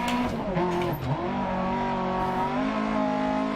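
A Lancia historic rally car in DiRT Rally 2.0 revs loud and close, its engine note holding steady with clear harmonics, dipping briefly as it shifts and then climbing again, with faint tire noise underneath.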